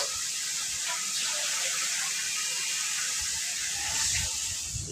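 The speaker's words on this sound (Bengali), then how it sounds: "এখন একটু পানি দিয়ে দিব।" Water splashed into a hot pan of chili powder and spices frying in oil with beef tripe gives a loud, steady, close hissing sizzle that runs unbroken for the whole stretch, with no talking over it.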